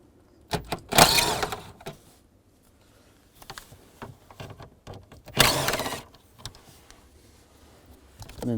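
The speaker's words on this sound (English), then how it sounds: "Underneath here, I'm going to take these two screws out." A 7mm socket on a power driver backing out two screws under the dash panel of a 2002–2009 Chevrolet Trailblazer, two loud whirring bursts with clicks and handling noises between them, close by.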